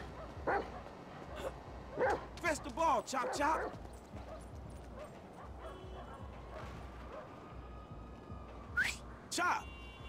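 A dog in Grand Theft Auto V yips and whimpers in several short, high bursts, clustered early in the clip with two more near the end, over a low game background hum.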